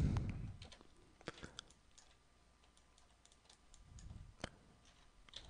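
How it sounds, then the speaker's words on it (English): A computer keyboard clicks with a few sparse, quiet, separate keystrokes, including the Y key, spread across the span, along with faint mouse clicks and low breathy noise. "I can hit the Y key to reselect the tool I just used."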